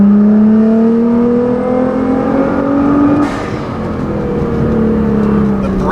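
A 2015 Nissan GT-R with a Meisterschaft exhaust, tune and GFB blow-off valves pulls hard in third gear, its engine note climbing steadily, then briefly dropping at a shift before rising again, loud and close from inside the car.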